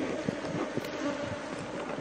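Honey bees swarm and hum around an opened hive being brushed during a beekeeping inspection in Kenya, a dense, steady buzz close by with no talking.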